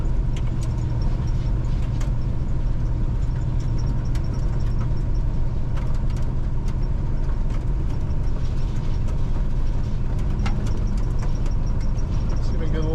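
An old RV drives down the road on rough tires, giving a steady, loud engine and road rumble throughout the cabin.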